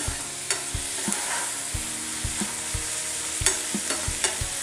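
Cashews and tomatoes fry in a kadhai, with a steady sizzle under repeated scraping and clinking strokes of a spoon stirring them, close and fairly loud.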